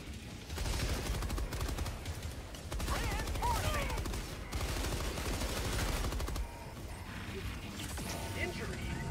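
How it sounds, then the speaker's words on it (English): Fireball cannons firing in a video game, a dense barrage of loud booming blasts and clattering impacts that come in several bursts over the clip, with a voice talking over the noise. "They launch fireball cannons at you?"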